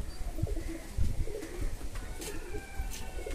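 A Homer pigeon gives soft, repeated low coos, close by and alone, against faint background noise.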